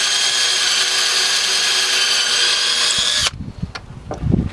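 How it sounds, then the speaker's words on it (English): Power drill boring a hole with a 3/16 bit while building a chicken tractor: a close, steady high whine that runs evenly, then stops abruptly, followed by a few handling knocks. "And then switching out to the 3/16 bit. Make that hole all the way through."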